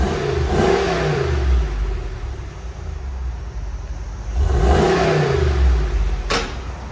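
A stock-exhaust 2022 Ram 2500 pickup with its 6.4 liter V8 revs up twice, each throttle blip swelling into a loud, deep roar over a steady idle, heard close with no talking.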